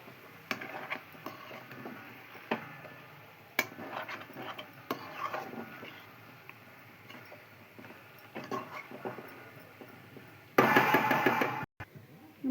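A spoon knocks and scrapes in a pot while chicken curry with chili and ginger paste is stirred, irregular close taps and rubs, fairly quiet, ending in a brief burst of louder sizzling noise.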